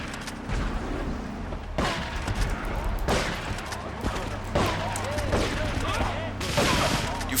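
Shotgun blasts in Grand Theft Auto III, several loud booming shots at intervals over busy game noise, with some speech beneath.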